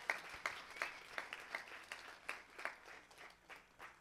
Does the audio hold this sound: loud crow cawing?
no